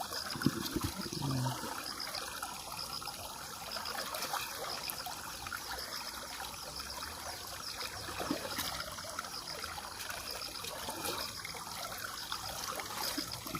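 Running water rinses paragis grass, a continuous close trickle and splash that stays steady throughout with no talking.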